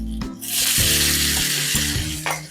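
Onions added to chicken frying in a pot, a loud broad sizzle that swells after a first clatter and holds steady, with a low steady hum underneath and no speech.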